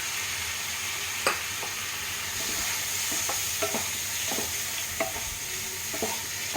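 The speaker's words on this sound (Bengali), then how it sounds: "এবারে আমি দিয়ে দেবো ভেজে রাখা চিংড়ি মাছগুলো" Pre-fried prawns tossed into a hot pan with curry leaves and black pepper and stirred, giving a continuous soft sizzle broken by several sharp spatula scrapes and clacks against the pan, close by, with no voices.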